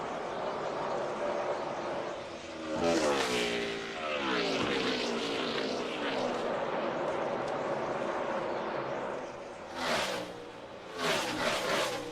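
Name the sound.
NASCAR Cup Series race cars on the final lap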